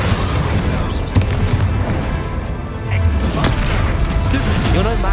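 A Confringo blasting curse explodes in Hogwarts Legacy, a loud, dense boom-filled burst with crashing rumble over continuous game music and effects, with a voice shouting over the blast.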